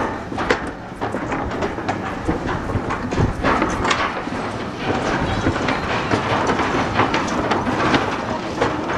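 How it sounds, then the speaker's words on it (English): Class 67 diesel locomotive hauling a train into Totnes in Devon, a steady broadband rumble with rhythmic clicking of wheels over rail joints, fairly loud and continuous with no voices. "There we are, train going into Totnes"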